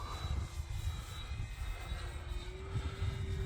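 An FMS P-47 radio-controlled model warplane makes a fast low pass at about three-quarter throttle, its electric motor giving a steady, sustained buzzing drone with a whine that holds and shifts slightly in pitch.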